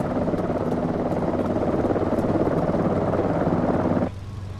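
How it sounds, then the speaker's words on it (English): A helicopter flies nearby in a flight simulator game set over the Bahamas, a steady droning rotor and engine rumble that holds for about four seconds and then drops away abruptly. "I thought I heard a helicopter."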